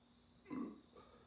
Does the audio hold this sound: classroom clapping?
no